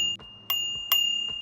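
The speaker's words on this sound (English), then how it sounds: "on the handlebar, we have a decently loud bell that is sure to get people's attention" A handlebar bell on a Gyroor X2 electric scooter rings close and loud, with two or three sharp dings and a sustained bright metallic ring decaying between strikes.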